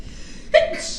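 A single abrupt sneeze bursts out up close after a quiet moment, with breathy noise trailing off.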